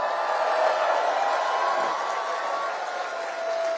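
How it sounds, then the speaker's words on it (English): An audience applauds for a former Liberal member of parliament at a political event. The clapping is dense and continuous, forming an even wash of noise with faint tonal whistles running through it. "Give John a round of applause"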